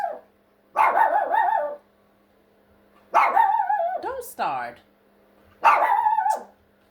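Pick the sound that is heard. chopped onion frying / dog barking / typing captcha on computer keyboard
dog barking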